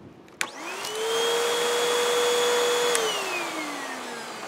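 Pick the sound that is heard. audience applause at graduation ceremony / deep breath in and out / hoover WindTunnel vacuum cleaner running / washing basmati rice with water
hoover WindTunnel vacuum cleaner running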